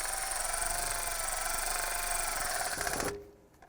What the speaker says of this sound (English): Tighten up the 8mm nut on the back.